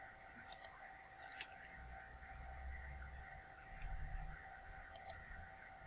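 Mouse clicks during a XAMPP software installation, a couple of faint quick double clicks near the start and again near the end over a low hum.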